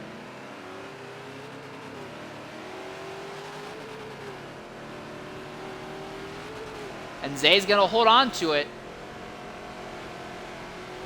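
Touring cars race in a video game, engines droning steadily and rising and falling in pitch as they run down a straight, with a commentator talking over them near the end.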